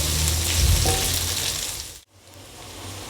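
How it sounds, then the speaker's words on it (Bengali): Potato pieces frying with onion in an oiled pan, giving a loud continuous sizzle and crackle with a brief stirring scrape, then dropping to a softer sizzle near the end. "আলুগুলো একটু পেঁয়াজের সাথে ভালো করে ভেজে নেব"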